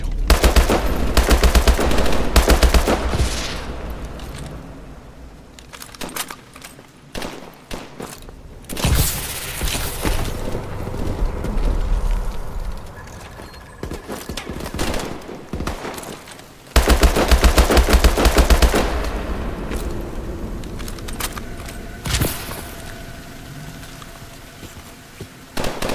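Loud, sustained automatic gunfire in Call of Duty Advanced Warfare, heavy bursts of shots with rumbling explosions and a brief lull in the middle, filling the whole scene with no talking.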